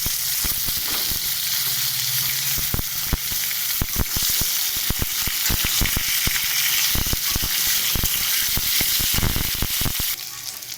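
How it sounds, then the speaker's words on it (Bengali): Potatoes frying in a pan to a reddish brown, with a loud, steady broadband sizzle and frequent sharp crackles and spatters running throughout, close and unbroken by speech. "আলুটাকে লাল করে ভাজবো"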